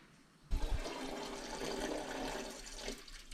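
Radiator fluid drains steadily from a 1985 Porsche 928 S during a timing belt and water pump service, starting with a sudden gush and then a continuous, close splashing rush.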